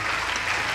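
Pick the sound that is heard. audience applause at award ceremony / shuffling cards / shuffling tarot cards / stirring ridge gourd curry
audience applause at award ceremony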